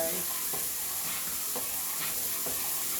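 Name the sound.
gumbo base boiling in a pot while being stirred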